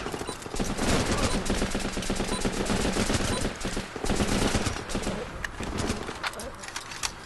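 Rapid gunfire rattles in sustained bursts during a video game firefight, loud and close, with brief pauses between volleys.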